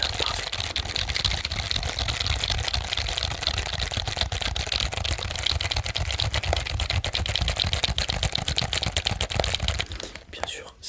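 Fast, continuous key clatter from a cheap wired computer keyboard, typed close up in a dense, steady stream for several seconds before stopping, with soft speech at times.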